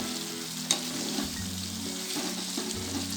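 Chicken pieces for a South Indian style curry fry in a pan as their released juices cook off, giving a steady close sizzle with a single sharp clink of a utensil near the start.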